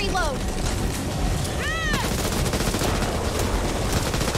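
Rapid gunfire crackles in Back 4 Blood as steady automatic bursts that run throughout, with shrill whistling, zipping game effects layered on top and a voice briefly heard among the shots.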